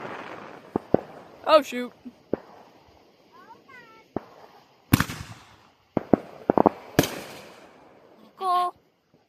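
Fourth of July emoji fireworks bursting overhead, several sharp loud bangs and crackles spaced irregularly, with whistling rises between them and people exclaiming and talking throughout.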